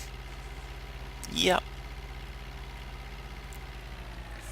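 A farm tractor idles in Farming Simulator 2013, giving a steady low engine drone throughout. A single short word of speech briefly rises over the continuous rumble.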